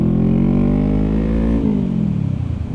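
Motorbike engine ridden on a mountain road, a loud, close, steady note with strong harmonics that holds, then drops in pitch as the rider eases off and the exhaust burbles.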